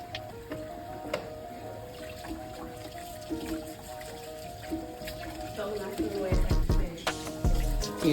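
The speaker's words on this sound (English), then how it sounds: "Turning on water." Tap water runs for handwashing in a skills lab, a soft, steady trickle under speech that grows louder toward the end.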